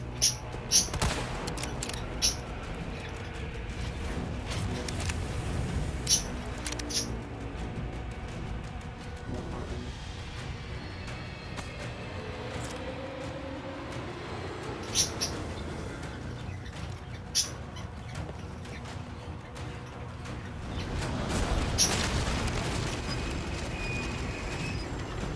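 Gunfire in Resident Evil 4: repeated sharp shots burst out at intervals over a steady rumbling, rattling game soundscape, with a few clustered volleys near the start, middle and end.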